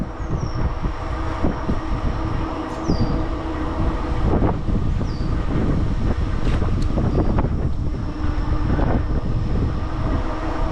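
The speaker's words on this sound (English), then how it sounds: "it's a fairly windy day in our face today" Wind roars and buffets against the microphone in a constant low rumble while riding a Blix Solo Eclipse 26-inch step-through e-bike into a headwind, with faint high squeaks now and then and no talking.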